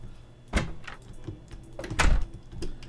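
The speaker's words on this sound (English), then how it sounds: "Whoa, that is a horrible sound of a door." A door in the video game Terraria swings open with a harsh, scraping creak, two loud bursts about a second and a half apart, over a low background with no talk.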